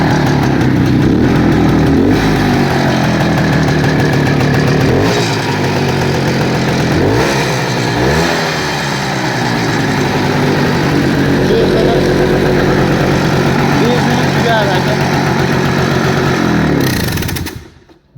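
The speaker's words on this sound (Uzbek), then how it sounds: "Mana motorlari. Hozir mana gaz berib ko'raman, quloq solib ko'rasiz." A motorcycle engine revs repeatedly and settles back to idle, loud and close, with a few pitch swells before cutting out near the end.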